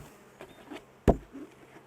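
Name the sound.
honey bees buzzing as they are dumped back into the hive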